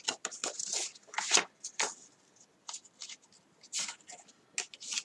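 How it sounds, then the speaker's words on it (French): A paper card pocket is folded by hand, giving close, crisp rustles and creases in short bursts separated by brief pauses. "Nos petites montagnes, là, on va venir les plier vers l'intérieur."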